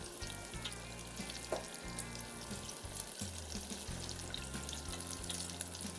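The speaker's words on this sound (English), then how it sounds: "It's frying up real good." Oil sizzles and crackles steadily as apple fritters fry in a pan, a soft continuous hiss with faint music underneath.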